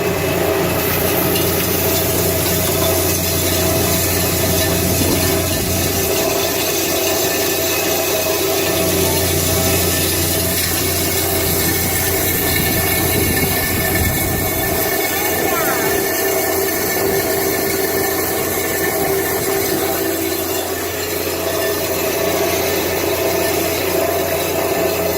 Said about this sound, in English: I cannot feed this fast or it will choke the crusher.